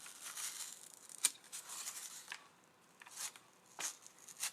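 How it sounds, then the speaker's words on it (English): An X-Acto knife carving eye holes in a cardboard cat mask, giving quiet, scratchy cutting and tearing strokes in short separate bursts, with a sharp snap near the start and no talking. "the easiest way to do this is to use an X-Acto knife and just carve out"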